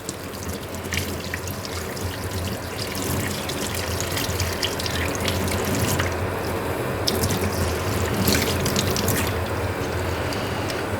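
Tap water runs steadily into a sink, rinsing acrylic paint off door hardware stripped with a Speedheater, a continuous splashing wash with faint metallic clinks from the parts being handled.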